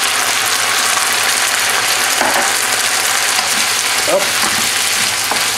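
Onions sizzle steadily in hot oil with Sichuan chicken sauce, a dense continuous frying hiss broken by a few spoon scrapes and stirs; one brief spoken word sits over it.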